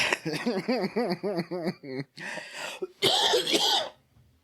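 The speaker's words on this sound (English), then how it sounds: "That's what happens when I laugh. I cough." A run of breathy laughter breaks into a couple of harsh, close-up coughs that trail off into quiet.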